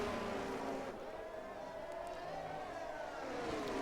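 Formula One race car in F1 22 braking into a corner at Circuit of the Americas: a steady engine whine dropping in pitch as the car slows, with a faint commentator voice murmuring underneath.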